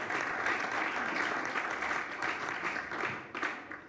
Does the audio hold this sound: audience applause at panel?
yes